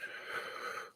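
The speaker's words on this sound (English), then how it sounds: "Taking that deep breath and breathing in" A single long, deep breath drawn in during a guided meditation, close and audible, a breathy airy inhale lasting about a second with no words spoken.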